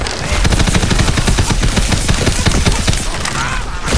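Rapid automatic gunfire in Tiny Tina's Wonderlands, a loud, dense, unbroken rattle of shots lasting the whole stretch with no talking.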